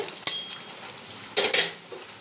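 Whole garam masala, cumin, dried red chillies and bay leaves crackle in hot oil for tempering: scattered sharp pops and sizzles with a louder cluster midway.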